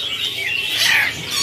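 A hand-raised hill myna at a bird market lets out harsh, raspy squawks, loud and close, a brief burst of scratchy calls against market background noise.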